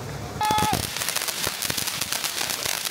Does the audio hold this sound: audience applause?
no